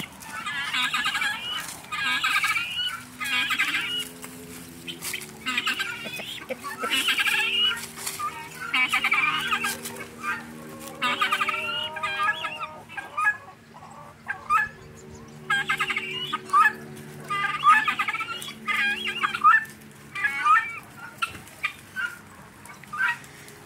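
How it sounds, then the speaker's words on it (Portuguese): Several Brahma chickens, bantams and guinea fowl cluck and squawk close by in a busy, continuous chatter, with overlapping calls throughout. "E as outras galinhas atrás querendo tomar ó."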